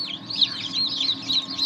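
Newly hatched chicks collected from an incubator cheep in a dense, continuous chorus of high, rapid peeps over a low steady hum, with no one speaking.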